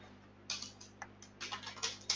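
Computer keyboard typing in bursts of quick clicks, close and clear, with short pauses between runs of keystrokes over a faint steady hum.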